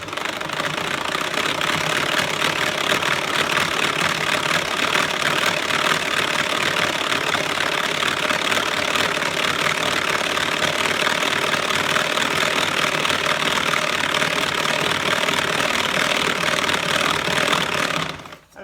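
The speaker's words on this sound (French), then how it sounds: "On va prendre le sucre et les œufs. Et on va aussi battre." Electric mixer beating sugar and eggs for a marble cake, a loud, continuous whirring and rattling motor drone held steady for the whole stretch before cutting off abruptly at the end.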